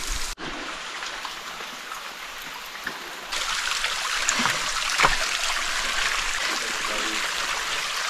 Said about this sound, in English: So this is the waterfall we're gonna cross.